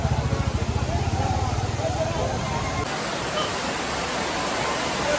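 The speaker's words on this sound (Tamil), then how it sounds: "ஃபுல்லாக தண்ணி ஓடுது" Steady broadband rush of flowing water in Goa, loud and continuous throughout, with a low rumble at first and crowd noise faintly underneath.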